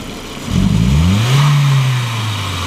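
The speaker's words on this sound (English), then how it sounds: "A little bit of a bog in there, that little bit of noise." A 1999 Volkswagen Passat 1.8T with a faulty MAF sensor revs up from idle, rising steadily and then sagging into a hesitant bog, heard loud and close with no talk.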